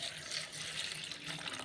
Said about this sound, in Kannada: ಒಂಚೊಂಬು ನೀರು ಪಾಡೋಡು